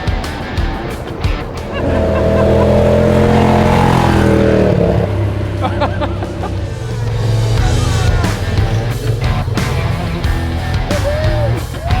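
Off-road rig blasts past at speed during a Baja shakedown run, its engine roaring up loudly as it nears, then fading with lingering rumble and road noise.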